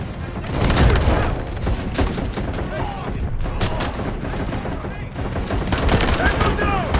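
Dense gunfire and explosive bursts from a mobile military shooter game set in trench lines, with a grenade launch amid continuous volleys; loud and close throughout, layered with game voice callouts.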